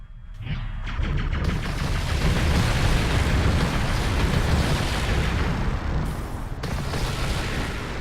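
Weapon fire in the video game Supersolar with the trigger held down against many enemies: a dense, continuous roar of rapid blasts and explosions, loud and sustained for the whole stretch without any voice.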